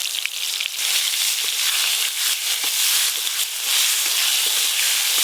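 Chopped tomato, a bay leaf and dried chilli hit hot oil in a pan, giving a loud, continuous crackling sizzle close up with scattered pops throughout.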